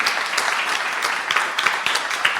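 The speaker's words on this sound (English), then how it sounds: "So please applaud to Adela." An audience at a plenary session of a soil conference claps, a dense, steady patter of many hands that continues throughout at moderate volume.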